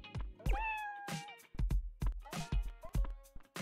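A cartoon cat meows in the diving and sushi-restaurant game Dave the Diver, with several short, bright, pitch-bending calls that repeat over game music and sound effects.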